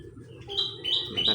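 Several kinds of birds chirping, a short close burst of high, bright tweets over a low murmur of background noise.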